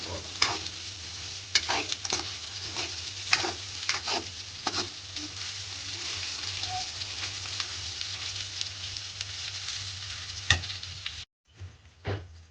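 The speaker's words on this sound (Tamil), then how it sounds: "எடுத்து வச்சிருக்கிற கடலை பருப்பையும் சேர்த்துக்கொள்வோம் அதையும் சேர்த்து ஒரு கண்ணில் வடிவாக கிளறி அப்படியே வதங்க விட" Chana dal sautéed and stirred in a pan, a steady close sizzle of frying with repeated scraping strokes of a spoon against the pan, ending in a brief pause before a few more stirs.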